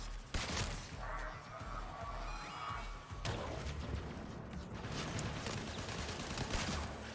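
Assault rifle fire in the sci-fi shooter Warframe, a steady wash of rapid shots and crashing impacts heard at a distance, fairly quiet and continuous with a brief break in the middle.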